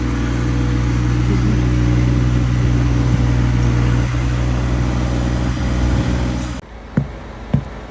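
A John Deere tractor fitted with a front loader runs steadily close by, its loud engine droning for several seconds before cutting off abruptly, followed by a couple of faint knocks in the sudden quiet.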